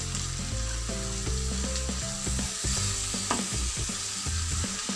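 Chopped beans and carrots frying in a pan: a steady loud sizzle with repeated clinks and scrapes of a spatula stirring, no talking.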